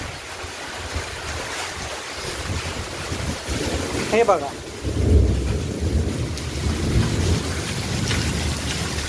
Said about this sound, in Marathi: विजा वगैरे जोरात चालल्या त्या खतरनाक मध्ये